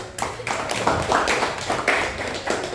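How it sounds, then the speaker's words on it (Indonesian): A classroom audience claps for about three seconds, a loose cluster of hand claps with uneven rhythm, fairly close and moderately loud. "Kita kasih aplaus sekali lagi"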